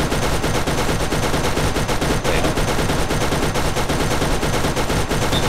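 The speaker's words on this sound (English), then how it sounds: "Oh, look, you shoot him." Rapid, dense gunfire from the video game Borderlands fills the whole stretch, a loud continuous barrage of shots with no pauses and no voices.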